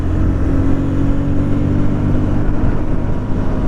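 KTM Duke 160 motorcycle accelerating: a loud, close, continuous engine drone that pulls steadily, mixed with heavy wind rush, with no talking.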